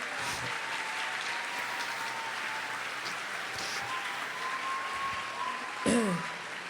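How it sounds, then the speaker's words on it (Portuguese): Church congregation at a Pentecost service applauding Our Lady after the enthronement of her image, a steady, moderate clapping that holds evenly, then a brief louder sound with a voice near the end. "Vamos aplaudir Nossa Senhora, nossa mãe."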